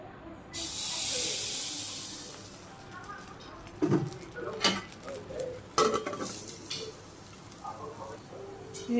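Rice-flour pitha batter hits a hot wok in a Bangladeshi village kitchen with a loud burst of sizzling hiss that fades, followed by scraping and clinking of a utensil against the pan.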